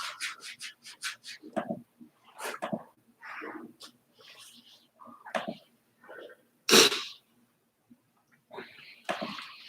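One sharp, loud sneeze bursts out during a yoga recovery flow class, standing out from soft surrounding voices and small noises.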